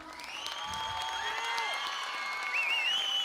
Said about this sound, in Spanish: para quien quiero pedir un muy fuerte aplauso